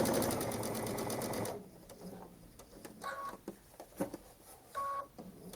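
A sewing machine quilts fabric for quilt-as-you-go blocks, running in a fast, loud, rhythmic stitching burst for about a second and a half, then giving way to quieter scattered clicks and short handling sounds.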